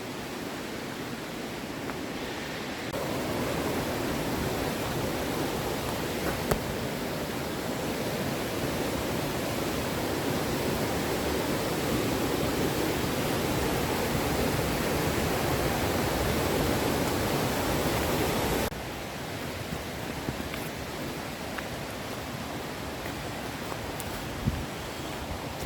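Water pours steadily over a waterfall in a dense, hissing rush that swells louder for a long stretch, then settles back to a softer, even wash, with no voices.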